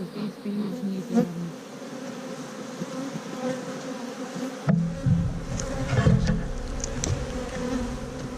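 Bees from an opened honey bee hive drone continuously during an inspection, a close, wavering buzz with individual insects zipping near, swelling louder in the second half over occasional soft knocks.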